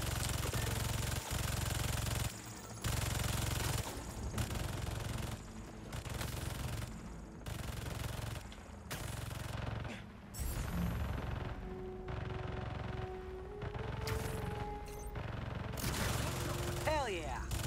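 Bursts of turret gunfire in Marvel's Spider-Man 2 at a Hunter base motor pool, loud rapid volleys broken by short pauses, with engine drone and a voice speaking over the shooting.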